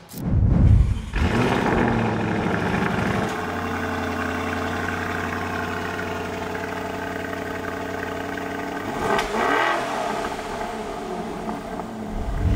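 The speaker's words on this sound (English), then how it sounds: "let's fire this thing up and see what that Akrapovic exhaust sounds like" A 2023 Lamborghini Urus Performante V8 with Akrapovic exhaust cranks and fires up, settling into a deep, rumbling idle with a brief throttle blip toward the end, close by.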